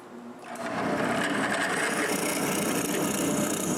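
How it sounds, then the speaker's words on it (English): A drill bores a series of holes into wood while building a moveable workbench, a steady loud whirring drone starting after a short pause and running continuously up close. "I drill a series of holes."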